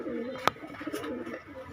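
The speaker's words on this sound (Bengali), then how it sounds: "এই আর এক পেয়ার লাক্ষা কবুতর আছে" A pair of lakha pigeons cooing softly and close, with a sharp click near the start and a quiet murmur of talk behind the low, repeated coos.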